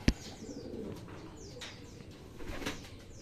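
Racing pigeons at their loft after a 57 km training flight from Zaragoza, Nueva Ecija, cooing softly and steadily, with scattered chirps and an early sharp knock, no talking.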